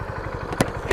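A motorcycle with a dead battery idles briefly on a hill, its engine putting out a low, uneven putter with a couple of louder clattering bursts, close and alone.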